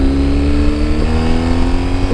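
A Moto Guzzi V100 Mandello S motorcycle engine drones steadily during a ride, loud and close, with a constant low throbbing tone and slight fluctuations throughout.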